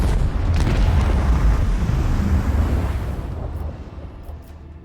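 Macro cannons fire a volley in Warhammer 40K: Rogue Trader, a loud, dense rumbling barrage of booms that holds for several seconds, then fades into a dwindling roar without talk.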